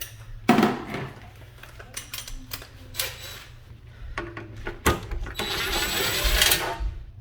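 Hand tool working loose the intake hose clamps on an MK6 Volkswagen GTI, giving a run of close metallic clicks, ratchet-like rattles and clanks with brief pauses, ending in a denser, steady metallic rattle.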